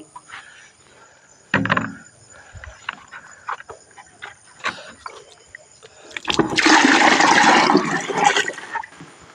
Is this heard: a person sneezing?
no